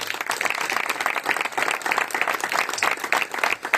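A congregation at a Christian ministry gathering claps steadily for nearly four seconds, a dense, sustained patter of many hands close by with no break in the sound.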